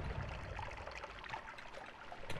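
Water flows in the video game Noita, a faint, steady trickling and bubbling stream with no other sounds over it.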